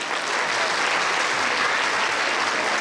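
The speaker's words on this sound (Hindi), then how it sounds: "आप कलाकारों के लिए एक बार जोर से तालियां हो जाएं" Loud, steady applause from an audience cheering performers at a Ramlila show held in a temple, a dense wash of clapping that holds without a break throughout.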